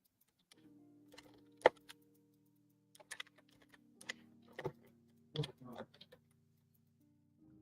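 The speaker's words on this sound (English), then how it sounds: "Let me know if you guys can hear the keys too much" Computer keyboard keys typed in scattered bursts, quiet clicks and taps clustered in short runs with pauses, over a faint steady low hum indoors.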